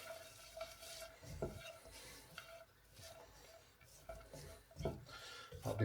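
Ground cumin being stirred into a dish of Moroccan lamb steaks with broccoli couscous, quiet spoon scrapes and soft knocks against the pan, faint and intermittent, no voices.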